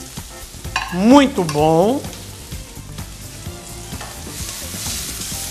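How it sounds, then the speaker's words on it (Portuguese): Chopped onion browning in a little oil in a pan makes a soft, continuous sizzle under stirring, while a person briefly speaks near the start. "Um pouquinho de óleo aqui. Vou deixar dourar essa cebola."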